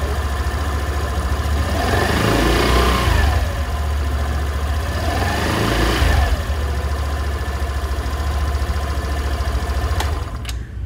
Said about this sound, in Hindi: तो ये कुछ इस तरीके की इस व्हीकल की आवाज़ थी एग्जॉस्ट नोट की